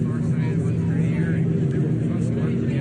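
A low engine drone of a private plane passes overhead at the Iowa State Fair, rumbling steadily over a murmuring crowd.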